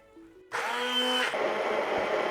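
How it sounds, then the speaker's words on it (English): A hand blender whirs up suddenly and runs steadily through a sauce of coriander, mint, lemon juice, salt and yogurt, a close buzzing motor that settles into a thicker churning tone. "I will give them a rough chop before putting in the hand blender"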